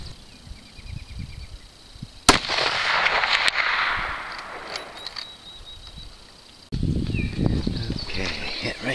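A Winchester 94 lever-action rifle in 30-30, firing a Lee 150-grain flat-nose cast bullet at a target 280 yards away, gives one sharp, loud crack. A long rumbling tail follows, and another burst of outdoor noise comes later.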